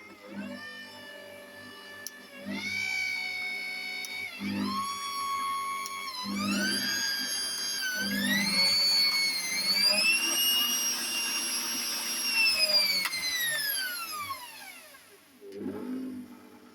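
Motor of a repaired Bosch MUM58720 kitchen machine whirs in rising and falling speed steps, a whining tone sweeping upward and holding steady before winding down, with clicks at start and end.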